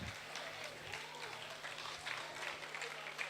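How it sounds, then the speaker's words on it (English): A lecture audience applauds, a dense, even patter of clapping that sustains steadily at moderate distance, with a faint low hum beneath. "A big round of applause."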